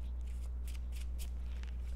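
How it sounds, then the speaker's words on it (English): Playing cards for the Marvel Champions card game are shuffled in quick riffling bursts, four or five soft crisp snaps over about two seconds, close by and over a steady low hum with no talk. "We're going to shuffle everything up."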